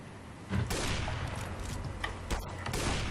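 Gunfire in CS:GO zombie mode crackles in a steady stream of quick shots at moderate volume, with sharper bursts standing out near the start and again toward the end.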